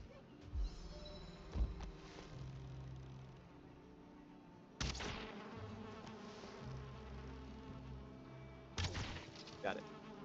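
Bees from a beehive in the Valheim video game buzz steadily at a moderate distance, a continuous insect drone with a few short louder bumps and thuds over it.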